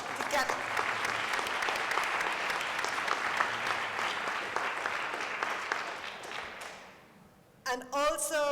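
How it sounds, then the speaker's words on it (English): Sustained audience applause fills a conference plenary hall on movement building and organizing, steady and dense for about seven seconds before fading, followed by a brief voice at the end. "So big round of applause to get."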